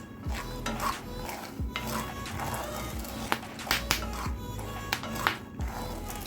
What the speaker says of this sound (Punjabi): ਭੁੱਜ ਚੱਲੇ ਦਾਣੇ ਆਪਣੇ